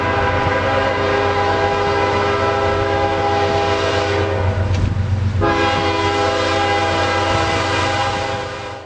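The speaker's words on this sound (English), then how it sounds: "This is NS 256, also known as Norfolk Southern's Triple Crown Road Railer." The Norfolk Southern Triple Crown RoadRailer freight train NS 256 rumbles past close by on American rails, its multi-tone horn blaring loud and sustained over the steady roll of the train, then fading slightly at the end.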